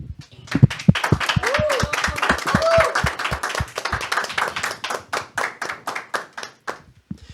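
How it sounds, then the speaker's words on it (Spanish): Audience clapping at a Catholic talk program, a fairly small group applauding in steady, distinct claps close by, with brief voices near the start and the clapping thinning out toward the end. "Despedimos a Jessica de la Cruz con un fuerte aplauso."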